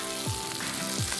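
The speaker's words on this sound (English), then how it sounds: "We'll give our hash browns a stir." Hash browns frying on a Blackstone griddle, a steady close sizzle with two scraping stirs of a spatula across the hot flat-top.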